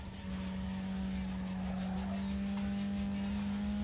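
Car drifting through a turn in the Need for Speed Underground 2 racing game, a steady loud engine drone with a sustained tire squeal running throughout.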